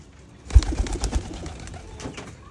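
A racing pigeon named Barbie coos in a short burst of soft, low calls outdoors, fading into quiet ambient noise.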